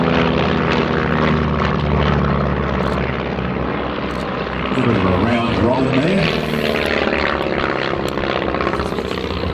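Vintage Tiger Moth propeller biplane flying an aerobatic display at an air festival, with a steady droning engine buzz that shifts in pitch as it maneuvers, heard under a commentator's voice.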